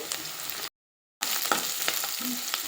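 Cumin seeds and curry leaves crackle and sizzle steadily in hot oil, a dense hiss with small pops, cut by a brief half-second silence before the frying resumes.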